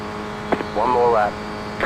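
A Renault Clio production car in the iRacing sim racing game at the Daytona road course; its engine whines up in pitch over about half a second, then drops away, with a voice talking over it.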